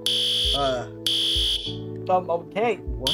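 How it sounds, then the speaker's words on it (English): Fire alarm sounding in a high school roleplay video game, two loud repeated electronic bursts in quick succession, followed by brief startled voices talking. "why is the fire alarm going off?"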